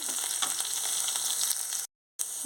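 Curry leaves and green chillies frying in hot oil, a steady close hiss and crackle of sizzling that cuts out briefly and then resumes.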